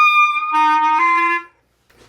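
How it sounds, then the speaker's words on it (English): A reed instrument played with too much mouthpiece in the mouth, giving a honky, squawky tone: one sustained bright note, then a second, louder note, alone and close, ending in near silence. "So really wrong embouchure that will cause squeaking is putting too much mouthpiece in your mouth, where you'll just get a squawk on everything."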